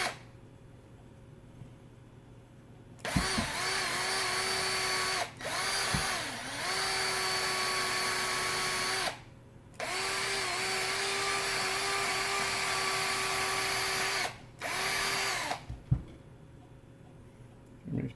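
A rotary tool buffs with polishing compound on a figure piece, its high whine running in three long bursts with brief pauses between, loud and close, no talking.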